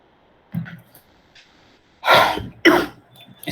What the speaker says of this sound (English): So I have a little cough.